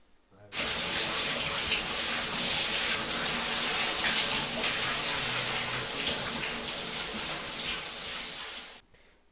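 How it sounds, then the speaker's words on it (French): A shower runs in the horror video game Paranoiac, a dense steady hiss of spraying water that starts abruptly, holds loud and constant for several seconds, then cuts off. "Alors ça c'est une douche rapide."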